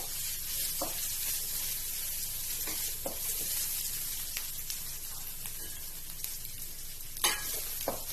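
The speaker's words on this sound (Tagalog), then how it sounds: "At yung bawang. Igisa lang natin" Garlic sautés in hot oil for ginataang tulingan, a constant bright sizzle close by with scattered taps and scrapes of stirring.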